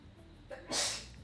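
A single short sneeze, a sharp breathy burst close to the microphone against a quiet background.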